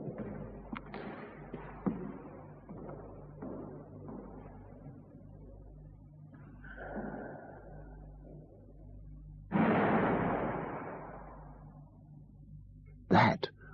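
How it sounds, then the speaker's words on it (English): A locked door in a squash court at Bircham Newton flying open and slamming shut: faint, hissy room sound with scattered soft knocks, a sudden loud rushing burst, then one sharp, close bang near the end. "That was the sound of the locked door flying open and slamming shut"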